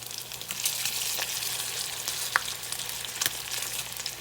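Salmon patties made from canned salmon fry in a pan with a steady, even sizzle and crackle, close up, with a few faint clicks and no talking.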